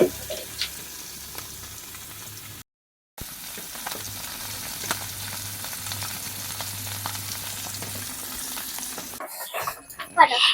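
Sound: fish coated in masala frying in a pan

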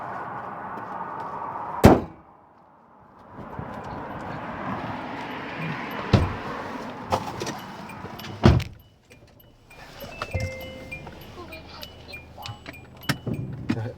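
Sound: Korando Sports car engine starting and running

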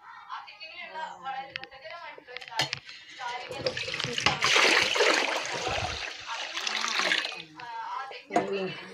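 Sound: water poured into cooking pot for coconut rice

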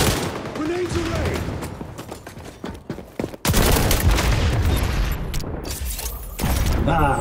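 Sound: grenade explosions and gunfire in XDefiant video game

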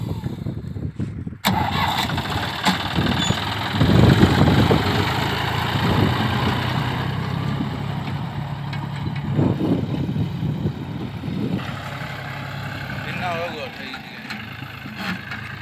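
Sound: John Deere 5050 D tractor engine running

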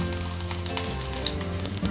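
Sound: chopped garlic cloves sizzling in hot oil

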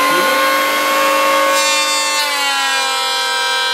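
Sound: Bosch electric planer planing wood

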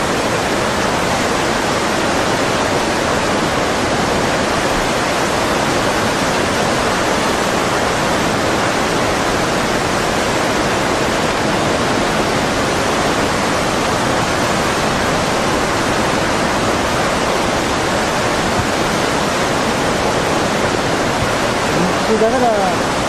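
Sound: tsunami water rushing through Minamisanriku

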